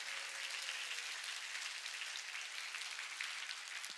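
A congregation at a Korean church's autumn mountain prayer-retreat Sunday service claps steadily, a faint, distant wash of applause holding evenly throughout.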